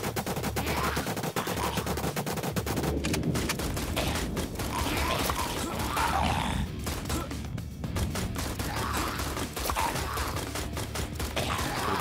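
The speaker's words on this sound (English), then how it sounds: "I should use the speed boost when I get the Uzi, see how fast that shoots" Uzi submachine gun firing in the video game Dreams Zombie Hunter, a long stretch of rapid, continuous automatic bursts that hardly pause, loud and dense throughout.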